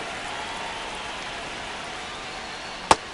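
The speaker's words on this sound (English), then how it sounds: "the field's not going to be able to hold up if the rain gets any worse than this" Steady rain falls on the baseball field in MLB The Show, a soft continuous hiss with one sharp click near the end.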